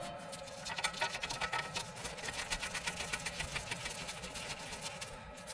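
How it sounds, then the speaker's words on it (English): An air handler's blower motor runs steadily after being reinstalled, a continuous hum carrying a fast, even rattling pulse, fairly close and loud, with no voices. "I am definitely confident on putting that blower motor back in and testing it"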